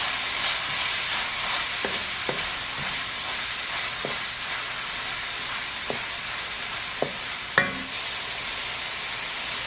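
Carrots stir-fry in a pan for seafood fried rice, a steady, even sizzle throughout, broken by a few soft clinks of the utensil against the pan.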